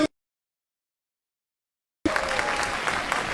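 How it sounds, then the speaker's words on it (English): An audience at a Techno India event claps in a steady, dense burst of applause that starts abruptly after a short silence, loud and close. "a good round of applause for the god of Techno India, Professor Gautam Rai,"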